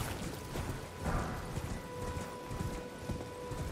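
A horse gallops across open ground in the video game Elden Ring, making a rapid rhythmic drumming of hoofbeats over a steady background hum, with no talk.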